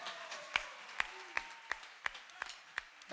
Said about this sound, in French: Applaudissez-vous ça.